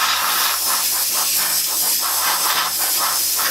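An airbrush sprays paint onto a license plate with a steady, close airy hiss, while a faint low machine hum pulses underneath.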